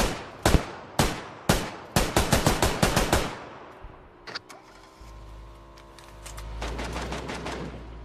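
Video-game gunfire in a tournament match: sharp single shots, then a rapid burst of loud automatic fire, followed by quieter scattered shots and a low rumbling engine-like hum, with no talking.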